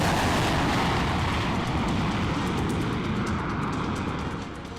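Tejas fighter jet roaring loud and close, a dense, steady broadband rumble filling the whole clip and easing off slightly at the end, with no voices.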